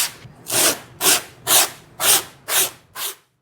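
A board of closed cell foam is scuffed in six evenly spaced, hissing rubbing strokes, close and fairly loud, each rising and then fading before the next.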